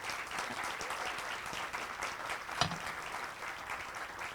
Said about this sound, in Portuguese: Uma salva de palmas para elas, né?